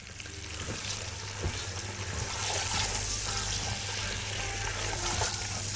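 Onions frying in a pan on the stove, seasoned with black pepper and salt, give a steady, close, dense sizzle that runs throughout with faint stirring clicks and no talk.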